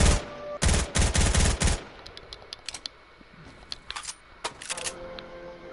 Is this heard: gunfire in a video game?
yes